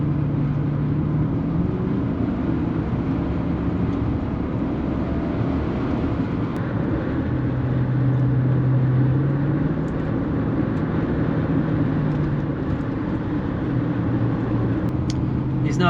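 A Lexus LS400 Celsior with a 1UZ VVTi V8, troubled by VVTi issues, drives along with a steady low engine drone and road rumble, smooth and continuous throughout.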